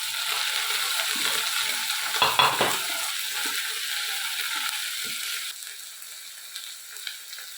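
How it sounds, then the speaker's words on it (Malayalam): Grated coconut frying in coconut oil in a Kerala village kitchen, a close, steady sizzle with scraping stirs from a spoon against the pan, slightly quieter toward the end. "ഞാൻ കുറച്ച് വെളിച്ചെണ്ണയൊക്കെ ഒഴിച്ച് കൊടുത്തിട്ടാണ് തേങ്ങ വറുത്ത് എടുക്കുന്നത്"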